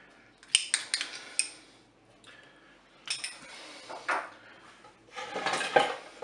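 Chicken, carrot and spaghetti stirred in a Cookeo electric pressure cooker pot, with clustered clinks and scrapes of a utensil against the pot in several bursts separated by quiet pauses, close and faint, without talk.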